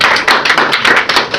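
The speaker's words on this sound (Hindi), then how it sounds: "अब आप जोरदार तालियां" An audience applauds poet Khursheed Rizvi at a mushaira, a brief burst of dense, loud clapping heard up close.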